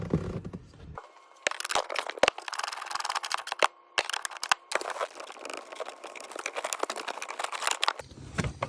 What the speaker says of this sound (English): use a spanner or a socket on an extension just to slacken that off and just lift it off